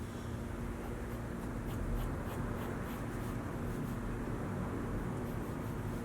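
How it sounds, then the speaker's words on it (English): A pencil scratches softly across paper as it sketches a fashion figure. The drawing is faint and continuous, with light rhythmic strokes over a quiet background hiss. "I'm gonna draw an S shape."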